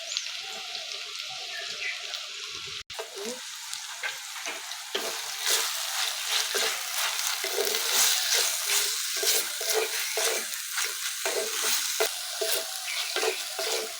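Tomato and green chillies frying in a pan with ginger-garlic paste, a steady loud sizzle and crackle with stirring scrapes running through, after a short quieter start and a brief click.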